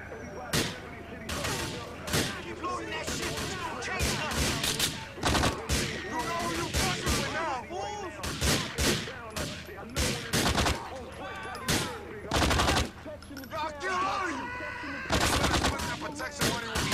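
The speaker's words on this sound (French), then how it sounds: "Il y a eu un coup de feu là." Gunfire in GTA IV: The Ballad of Gay Tony on Xbox 360, with repeated sharp bursts and volleys of shots cracking in clusters across the scene, some rapid like automatic fire, loud against quieter game background.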